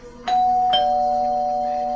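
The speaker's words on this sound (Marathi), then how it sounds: "तोच दारावरची बेल वाजली" A doorbell chimes twice, a bright ding-dong whose tones ring on and slowly fade, loud and close.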